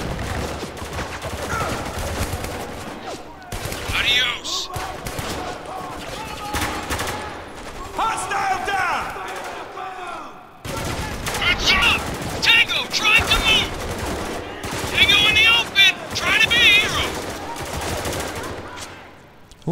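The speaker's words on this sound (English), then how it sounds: "Who the hell is shooting at me?" Gunfire in the shooter video game Spec Ops: The Line, scattered shots and bursts mixed with battle noise and explosions throughout, heard under a player talking over the action.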